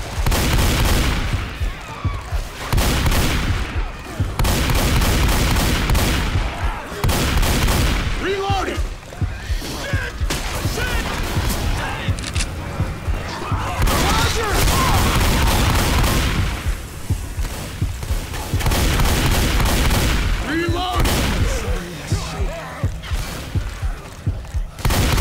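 Assault rifle gunfire in Left 4 Dead 2, dense bursts of shots running through the whole stretch amid chaotic game noise, with players talking over it.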